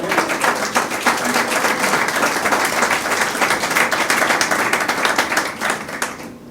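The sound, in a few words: applause in church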